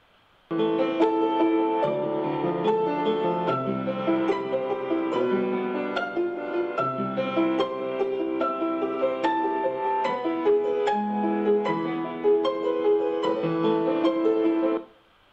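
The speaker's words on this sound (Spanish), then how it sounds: "se tiene la música de pi" A melody played note by note from the digits of pi, a steady sequence of clear, bright tones with rich harmonics, continuous and alone without talk.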